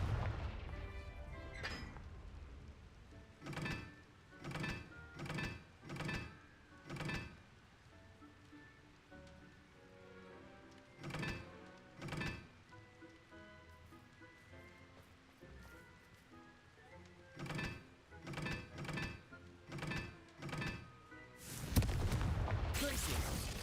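Repeated booming fire-blast spell explosions in the Hogwarts Legacy video game, bursts landing in rapid clusters of four or five over a low continuous rumble, loud and close.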